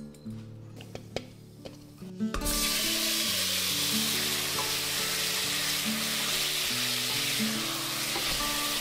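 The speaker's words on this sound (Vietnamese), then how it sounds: "Dầu hành tỏi phi lúc nãy mình sẽ cho vô nồi 2 muỗng canh để mà mình xào cái sườn này cho" Steady loud sizzling of pork ribs stir-frying in hot garlic-shallot oil, beginning after a few quiet clinks and continuing unbroken, with soft background music.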